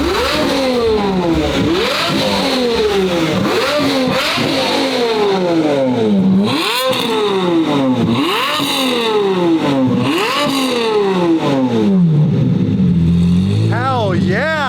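A Ferrari 550 with a straight-piped exhaust is revved repeatedly, each blip rising sharply and falling back in a loud rhythmic series of roaring sweeps, with people talking and exclaiming over it.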